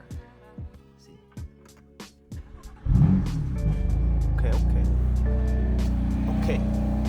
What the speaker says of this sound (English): Let's see what this stock exhaust cold start talking about.